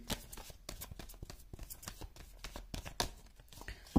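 A quick run of soft riffling tarot card shuffles, close and quiet, with a slightly louder snap near the end.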